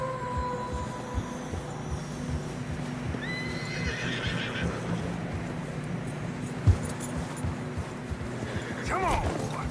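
Horses whinny and neigh a few times while struggling through fresh snow on a narrow path in Red Dead Redemption 2, over a steady backdrop of clopping hooves and ambient noise, with a louder neigh near the end.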